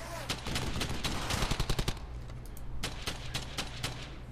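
Rapid bursts of automatic gunfire crackle in the World War II shooter Brothers in Arms: Hell's Highway, a dense volley followed by scattered sharper shots over a steady low rumble.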